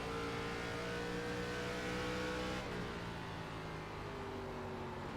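Race car engine in the iRacing video game at Phoenix, a steady loud drone with a held pitch that drops and eases off partway through as the car slows to pit in.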